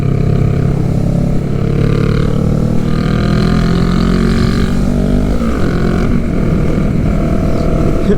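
Loud, steady engine and road noise from a motorcycle accelerating to merge onto a highway, with a rising rumble and shifting tones throughout and heavy wind buffeting.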